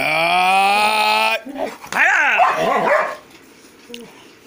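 A golden retriever lets out a drawn-out tonal whine, then barks and growls in a burst of rough, close, loud sounds before fading. A human voice is briefly mixed in.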